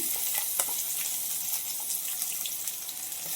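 Coarse ground green chilli and ginger paste sizzling steadily as it fries in a hot pan of oil for chitranna rice, a continuous close crackle with soft bubbling and no voices.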